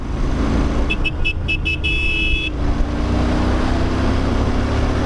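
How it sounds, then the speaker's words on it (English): A Royal Enfield Interceptor 650 motorcycle engine roars steadily as it accelerates, loud and close under heavy wind rush, with a short series of beeping tones partway through. "now I'm going to open the bike a little bit"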